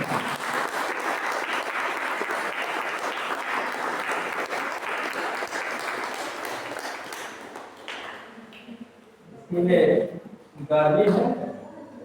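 Church congregation clapping at a Hindi-language worship service, sustained even applause filling the hall for about eight seconds before dying away, followed by a speaking voice.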